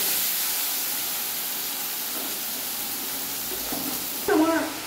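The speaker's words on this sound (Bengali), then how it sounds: "এবার আমি এই মশলাটা ভালো করে ভাজবো যতক্ষণ না তেলটা ওপরে উঠে আসছে" Masala paste for a potato and ivy gourd curry fries in oil with a constant close hiss and sizzle, and a voice briefly cuts in near the end.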